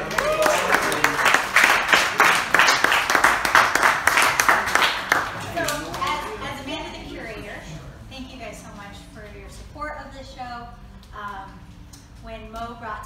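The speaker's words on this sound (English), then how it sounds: "If everybody give her a little round of applause" Audience applause for an artist named Amanda at a bee-themed art talk, a loud dense burst of clapping for about six seconds that thins into scattered claps as people begin talking.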